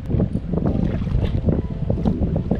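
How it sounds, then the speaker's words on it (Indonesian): Wind gusting over open sea around a fishing boat out for slow pitch jigging, a steady loud buffeting rumble with boat and water noise throughout, no voices. "Pagi ini kondisi cuaca sedikit agak angin bertiup dengan kecepatan 9 mph"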